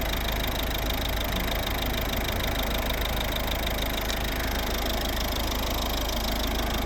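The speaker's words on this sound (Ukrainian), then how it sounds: "Ну, Ось робота двигуна." A 2010 Volvo V50 with a 1.6 D2 diesel engine idles steadily up close, giving a continuous, even rumble with no voices.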